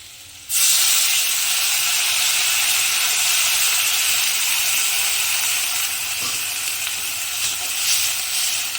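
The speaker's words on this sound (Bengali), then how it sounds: "এবার একটু জল দিয়ে দেবো" After a brief quiet moment, a sudden loud hiss bursts out as water hits a hot pan of frying potatoes, onion and spices, then settles into a steady, steamy sizzle.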